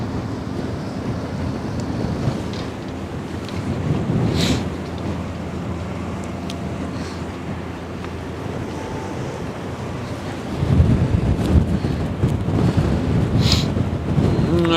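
Wind gusting on the Westerschelde shore, a broad rumbling buffet across the microphone with surf-like swells, growing stronger near the end, with no voices.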